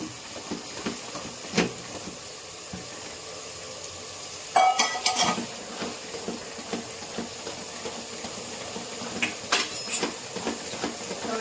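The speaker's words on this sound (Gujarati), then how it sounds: "ટામેટા નાખી દીધા છે એટલે ચડે એટલે એમાં મીઠું નાખ્યું છે" Tomatoes with salt cooking in a pan give a soft, steady sizzle, with scattered stirring scrapes and clinks and a denser burst of clatter partway through. No voices are heard.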